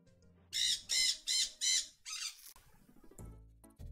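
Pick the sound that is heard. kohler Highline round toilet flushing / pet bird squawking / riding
pet bird squawking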